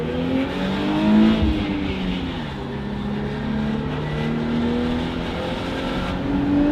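Nissan Z fitted with a Valvetronic Designs exhaust, the engine running and revving in a close, loud, steady drone with rising and falling tones over several seconds, no talking.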